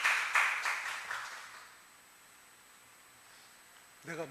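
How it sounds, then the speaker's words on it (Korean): Church congregation at a Wednesday worship service applauding, a burst of clapping that starts loud at once and fades out over about a second and a half, followed by quiet. "박수 한번."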